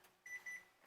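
An oven timer beeps from a kitchen where cranberry orange bread is baking, sounding two clear electronic tones in quick succession over low room noise.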